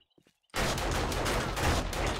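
Silence broken by a sudden loud burst of rapid gunfire in the video game 7 Days To Die that keeps blasting continuously, close and harsh.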